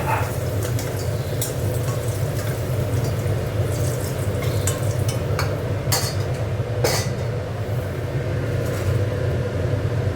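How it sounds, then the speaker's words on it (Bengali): Cumin seeds sizzle and crackle steadily in hot oil in a pan while cooking a rohu fish curry, a dense, even frying hiss with a few faint metallic clinks on top. "একটু জিরে ফোড়ন দিয়ে দিচ্ছি।"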